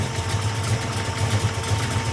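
A muscle car with an Anderson N91 camshaft idling: a steady, close, low rumble with a slightly lumpy pulse and no talking.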